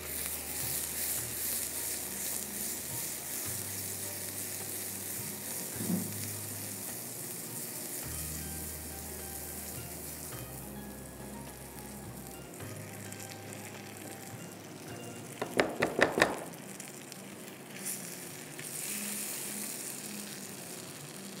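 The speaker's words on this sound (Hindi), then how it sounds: "मक्खन भी मेल्ट हो चुका है।" Butter melts and sizzles steadily in a pan on a stove, making a continuous soft frying hiss with occasional faint stirring scrapes and clatter partway through.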